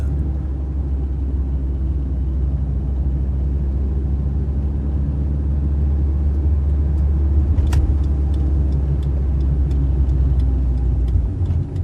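A car drives along a road through the Moroccan landscape, giving a continuous low rumble of engine and road noise with a few faint clicks on top.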